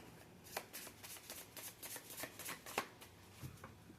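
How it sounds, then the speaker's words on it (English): Tarot cards being shuffled by hand, a steady run of quick riffling flicks and soft slaps, close and fairly quiet, with no talking. "I'm just getting good shuffles in."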